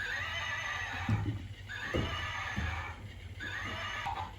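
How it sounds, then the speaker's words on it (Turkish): A toy horse neighs repeatedly in electronic whinnies, with clip-clop sounds, fairly close over a constant background hum. "Bu atın sesi var mı Batu?"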